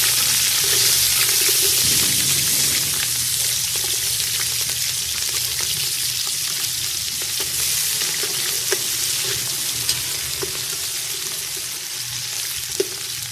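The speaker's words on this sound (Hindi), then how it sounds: "गर्म हो चुका है, अभी हम इसमें प्याज डाल देंगे।" Onions frying in hot ghee for vegetable pulao, a steady dense sizzle with occasional stirring scrapes, close and loud throughout with no talking.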